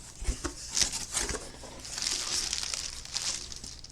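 Packaging crinkles and rustles up close as a freshly cut-open box of stamps is unpacked, soft scattered crackles and rustling with no speech.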